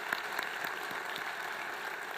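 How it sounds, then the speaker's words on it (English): Brief, steady applause from the audience at a judicial investiture ceremony, a dense and even patter of clapping that continues without a break. "please give her a round of applause for being an amazing public servant."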